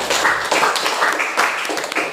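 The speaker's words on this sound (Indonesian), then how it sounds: "tepuk tangan untuk mereka" Students in a classroom applaud their classmates, a short burst of close, brisk hand claps from a small group, lively and uneven before fading off.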